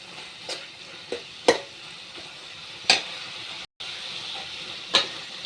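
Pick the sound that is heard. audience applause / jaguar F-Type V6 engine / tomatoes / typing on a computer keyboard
tomatoes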